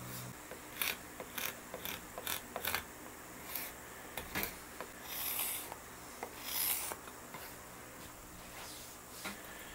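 A thick 0.80 cabinet scraper shaves wood while shaping a guitar build, making a steady series of close, rasping strokes in an irregular rhythm over a constant background hum.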